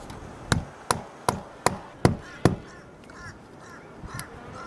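Sharp, loud taps from a hammer handle striking a surface, six evenly spaced knocks in quick succession, followed by a few fainter knocks, with no talking.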